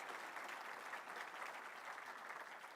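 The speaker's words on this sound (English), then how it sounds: "Let's give our team water polo player a big round of applause." An audience claps steadily, a faint, even wash of applause from a crowd with no breaks.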